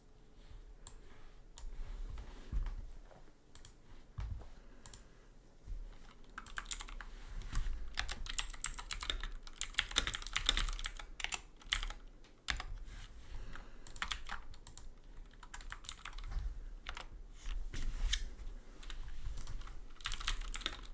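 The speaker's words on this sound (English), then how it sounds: "I'm just typing." Steady computer keyboard typing, rapid clicking keystrokes in irregular bursts with louder clusters in the middle, close up and without voices.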